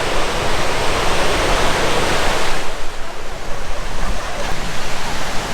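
Broad, steady wash of breaking surf on the beach at Imperial Beach, California, loud and close, rolling on without pause and easing slightly midway, with no voices.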